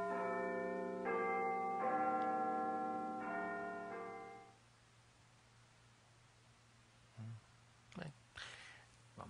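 Church bells ring in layered, sustained peals for a few seconds, then fade to quiet room noise broken by a few faint rustles.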